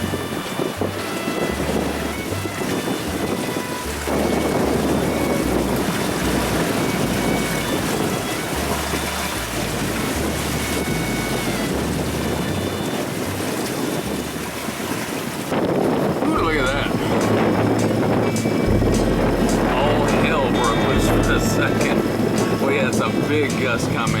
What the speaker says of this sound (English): Big gust come in.